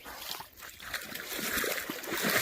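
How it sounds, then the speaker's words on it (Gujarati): Cattle and people wading through water in the Gir forest area, with steady splashing and sloshing close by, growing a little louder toward the end, and no talk heard. "પાણીમાંથી હવે આપણે જઈ રહ્યા છીએ"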